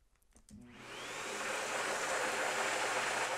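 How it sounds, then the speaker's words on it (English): A vacuum cleaner switches on and spins up into a loud, steady, broadband roaring hiss that continues alone after a brief, faint start. "Let's give it another test here, what I'm calling the vacuum cleaner or the Hoover test."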